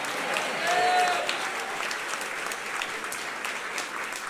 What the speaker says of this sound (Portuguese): aplauda o Senhor e diga glória a Deus.